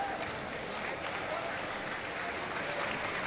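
Dense crowd applause rolls steadily at a Muay Thai fight after the final round, many hands clapping together in a continuous, moderately loud wash with a faint voice beneath.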